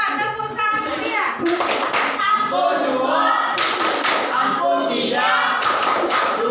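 A group of children performs the tepuk santiang clapping chant, rhythmic bursts of hand claps mixed with loud young voices chanting together throughout.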